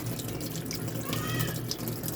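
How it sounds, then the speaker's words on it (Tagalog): Water rushes steadily through the inlet valve into a washing machine drum, a continuous hissing flow with a faint low hum beneath, close and moderately loud throughout. "Ang valve natin, ang inlet valve, nag-open."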